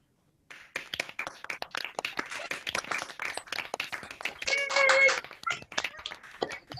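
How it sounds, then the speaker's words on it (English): Graduates from a School of Biosciences ceremony clap over a video call, a dense patter of many hands spread across several seconds, with scattered taps and brief background voices mixed in. "unmute yourselves and share and clap yourselves"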